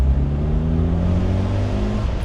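A Reliant Scimitar SS1 with a carburetted 1.6 CVH engine pulls hard under full throttle, a loud, steady, rising engine drone with strong low harmonics lasting throughout, close and alone.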